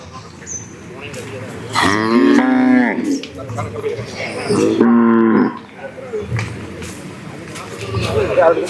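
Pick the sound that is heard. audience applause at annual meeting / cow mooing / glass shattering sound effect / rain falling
cow mooing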